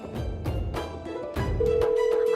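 A telephone ringing tone sounds during a call. A steady electronic tone begins partway through and holds to the end, after a few clattering handling noises close to the phone.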